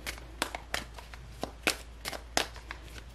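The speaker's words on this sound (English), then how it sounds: "These cards having a really hard time coming together, hard time shuffling." A deck of tarot cards is shuffled by hand at close range, giving a series of sharp, irregular riffling snaps and soft slides with no one talking.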